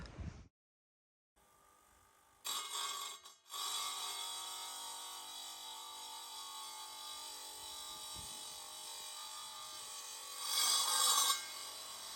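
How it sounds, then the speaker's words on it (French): A travertine floor tile in opus format is cut inside a wooden chalet, a harsh grinding rasp that starts after a short silence, breaks off briefly, then runs steadily and swells louder near the end. "Ça va être notre premier carreau à découper."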